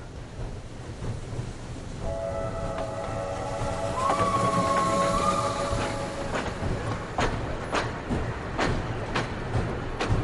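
A steam train runs along rails with a steady rolling rumble and rhythmic clicks of wheels over joints, while long whistle tones sound in the middle; no one speaks.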